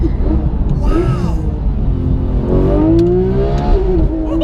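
A Porsche GT3 engine revs hard and winds up from inside the car, its pitch climbing in long sweeps, loud and continuous, with voices talking over it.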